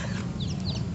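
Chicken clucking in a farmyard, a steady low murmur of clucks that runs without a break and sits close and fairly loud, with no voices over it.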